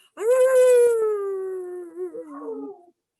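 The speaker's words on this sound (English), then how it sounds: "when it's dark and it's dreary and those coyotes start howling" A single coyote howl at night in the Texas and Southwest desert, loud and close, rising then drawing out into a long wavering wail that breaks into yips before fading, with no other sound.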